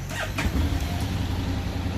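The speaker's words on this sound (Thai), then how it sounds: "เปิดรถสตาร์ทเครื่องยนต์" Honda X-ADV 750 scooter's engine starting and settling into a steady low idle rumble, close and fairly loud, with no talk over it.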